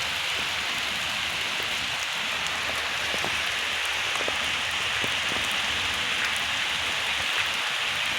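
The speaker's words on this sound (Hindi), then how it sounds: "ये देखें जी बहुत तेज़ बारिश शुरू हो चुकी है।" Heavy rain pours steadily over a village, a dense continuous hiss with scattered drop impacts, close and unbroken throughout.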